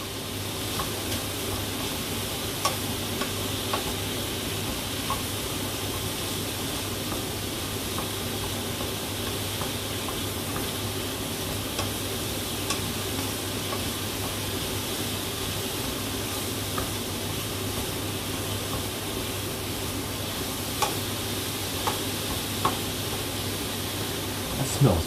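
Mushrooms sauté in a pan with a steady, even sizzle and hiss that runs unbroken throughout, with faint occasional clicks of a utensil.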